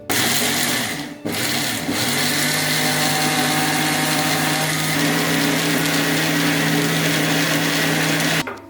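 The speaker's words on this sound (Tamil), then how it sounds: "இப்போ நம்ம இதை ஒரு மிக்சர் ஜாருக்கு மாற்றிட்டு நல்லா கிரைண்ட் பண்ணிட்டு எடுத்துக்கலாம்" A kitchen mixer grinder blending roasted coconut with water into a smooth paste for mutton kurma, a loud, steady motor whine with a short dip near the start, running alone until it cuts off at the end.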